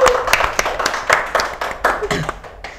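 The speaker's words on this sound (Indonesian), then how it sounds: "Tepuk tangan dulu dong" A small studio group claps along in a short burst of scattered, uneven hand claps lasting a few seconds, fairly close, with a voice briefly audible under the claps.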